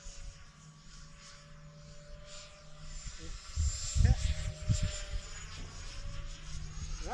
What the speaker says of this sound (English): For just being the plain old F-16, man, this thing flies pretty well.